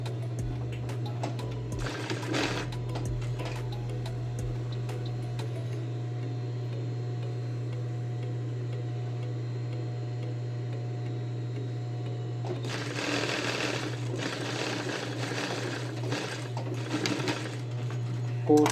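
A sewing machine stitches fabric for a women's blouse, running in steady humming bursts with a rapid ticking needle rhythm, close and clear, with pauses between runs and no talking.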